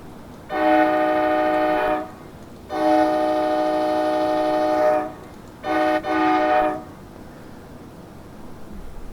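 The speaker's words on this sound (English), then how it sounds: "Pretty typical air horn that every single cab car has." Cab car air horn in the Train Simulator Classic game on the North Jersey Shore and Morristown lines, sounding three loud multi-tone blasts, two long and one shorter with a brief break, alone over quiet rail ambience.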